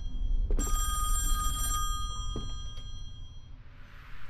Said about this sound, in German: I shouldn't answer the phone. Should I?